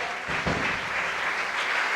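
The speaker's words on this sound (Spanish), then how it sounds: "Dele un aplauso bien fuerte al Señor." A church congregation applauding together during an evangelical service, a steady wash of clapping filling the full two seconds at moderate loudness with no one speaking over it.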